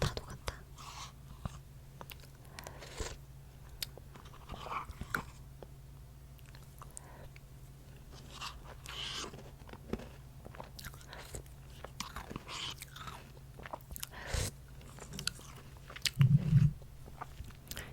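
French fries from a Lotteria fast-food meal dipped in sauce and eaten up close, with soft intermittent bites and chewing scattered among quiet whispered talk.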